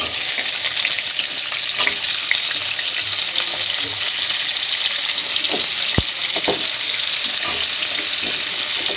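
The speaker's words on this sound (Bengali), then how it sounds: "এবারে আলু একটু ভেজে নেব" Potatoes frying in a pan, a loud, dense, continuous sizzle close up, with a few stirring scrapes and one sharp knock, no voices.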